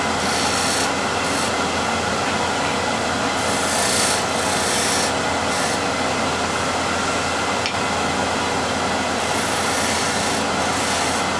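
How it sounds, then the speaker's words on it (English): A spindle gouge shear-scrapes a turning wooden spindle on a lathe while shaping a bead, giving a steady, close rasping hiss that runs unbroken throughout. "Now to shape this bead, I'm going to now hone the right side of the spindle gouge as well."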